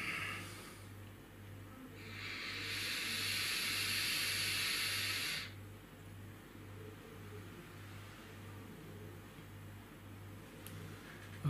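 Long breathy hiss of vapour exhaled from a SMOK VCT A1 electronic cigarette, rising around two seconds in and fading after about five, close and soft over a steady low hum.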